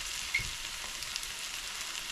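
Garlic and aromatics frying in a pot for Guyanese metemgee, a quiet, steady sizzle and crackle with no talking.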